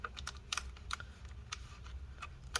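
Typing on a freshly replaced keyboard of a Lenovo ThinkPad X1 Extreme laptop: a dozen or so crisp, close key clicks in an irregular rhythm, with a few louder taps standing out, heard alone.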